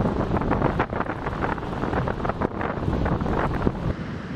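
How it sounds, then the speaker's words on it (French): Strong wind roars and buffets the microphone continuously outdoors during heavy snowfall on a winter beach in Norway, with steady rumbling gusts and no voices. "Il neige fort et il y a un peu de vent quand même."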